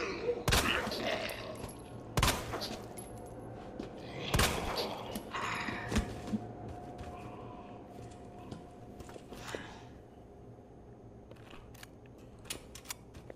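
Gunfire in Resident Evil 2 Remake: a handful of sharp, separate shots ring out over a few seconds, fading to quieter clicks and clatter amid low background ambience.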